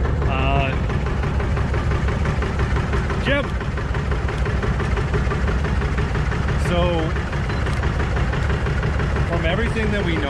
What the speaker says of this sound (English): This tractor is a piece of history.